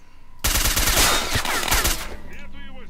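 Loud automatic gunfire erupts in S.T.A.L.K.E.R. Shadow of Chernobyl, a dense continuous burst of rapid shots lasting over a second before tailing off into quieter, scattered noise.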